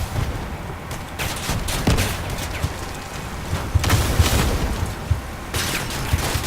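Explosive bursts and gunfire crackle through a chaotic vehicle battle in the game Crossout, with rocket launcher blasts landing in quick, uneven clusters over a constant rumble of engines and combat noise.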